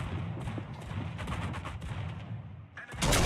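Rumbling naval gunfire from a warship in World of Warships, aimed at the Cleveland, rolling as a dense, continuous low barrage of booms, with a louder, brighter blast bursting in near the end.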